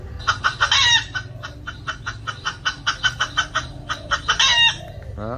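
A recorded rooster crows repeatedly amid rhythmic clucking from fowl, played through an AT100 loudspeaker, loud and slightly boxy.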